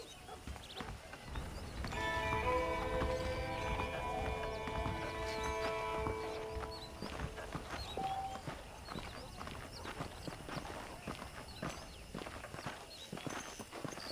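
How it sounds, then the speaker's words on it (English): Horse hooves clip-clop at a steady walking rhythm in the Western game Red Dead Redemption, moderately close and continuous, mixed with game ambience, faint musical tones and a brief whinny. "The horses are saddled up over here."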